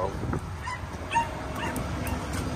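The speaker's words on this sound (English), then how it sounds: "There's the puppies." Puppies whimper and yip in short, high cries scattered over a steady low rumble, fairly faint and close, heard during a Ford Bronco towing trip in Florida.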